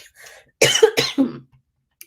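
Three sharp, close coughs in quick succession from a person recovering from COVID, then quiet with a faint click at the end.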